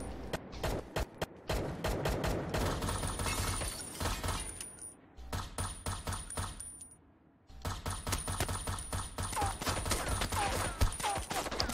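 Rapid gunfire in the online shooter Knives Out, dense bursts of automatic shots with sharp metallic clinks, loud and nearly continuous, broken by two brief lulls before resuming.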